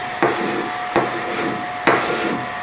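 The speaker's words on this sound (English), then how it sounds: "The scraper is being held so lightly that it's never going to damage the timber. It's just planing across the surface." Steel hand scraper shaving cured epoxy off a timber surface, three distinct strokes spaced about a second apart, each a crisp scraping rasp over a steady background hum.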